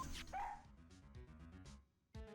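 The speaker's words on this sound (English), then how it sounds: "He's a canine police dog, still in training." A cartoonish police dog in training in the Ace Attorney video game gives a few short yips and barks over game music, with one bark near the end.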